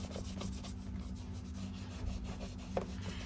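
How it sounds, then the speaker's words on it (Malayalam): Vaseline is rubbed into an old leather purse, a quiet, continuous scuffing and rubbing under a low background hum. "നമുക്ക് ഇതുപോലെയുള്ള ലെതർ പേഴ്സുകളും ഇതുപോലെ തന്നെ നമുക്കൊന്ന് നന്നായിട്ടൊന്ന് അപ്ലൈ ചെയ്ത് കൊടുക്കാം."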